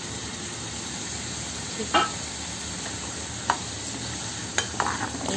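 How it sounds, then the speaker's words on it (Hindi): Tomato puree sizzles and fries in a hot pan for dhaba-style paneer, with steady frying hiss and a few brief scraping stirs of a spoon against the pan; a single short word is spoken. "और अभी इस टाइम हम इसमें डाल देते हैं अपना टमाटो प्यूरी"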